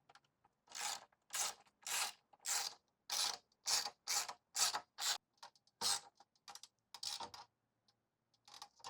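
A ratchet wrench clicks in rhythmic strokes while tightening a 10 millimeter bolt on a 2025 Yamaha YZF-R1 motorcycle during an exhaust install, close and crisp, each stroke a short burst separated by brief pauses.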